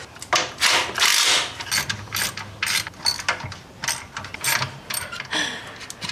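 A hand ratchet clicks in quick repeated bursts, tightening bolts on a 1954 Chevy transmission during a swap, close and alone with brief pauses between strokes.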